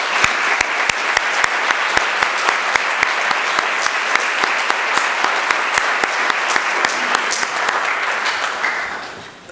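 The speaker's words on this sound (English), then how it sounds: "Sir, would you please rise and take some applause?" Sustained audience applause fills a literary awards ceremony hall, dense steady clapping from many hands that holds for several seconds, then fades at the end, with no voices.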